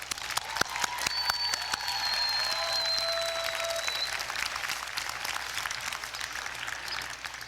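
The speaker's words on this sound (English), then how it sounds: "Fellow graduates, let us take a moment to applaud those who have helped us achieve our goals." Sustained audience applause fills a graduate school commencement hall, a broad, even patter of many hands at moderate distance, with a few sharp nearby claps and whistles near the start.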